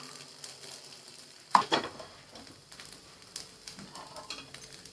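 A poha dosa cooks on a hot pan with a soft, faint sizzle, broken by a couple of sharper pan or spatula clicks near the start.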